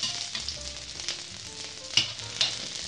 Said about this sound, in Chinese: 油热后葱白先下去